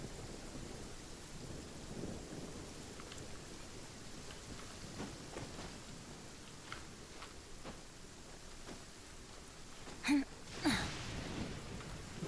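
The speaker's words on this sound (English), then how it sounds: "It always rains when I go on an adventure." Steady rain in Genshin Impact falls throughout, with faint distant thunder rumbling beneath it and two sharper cracks of thunder near the end.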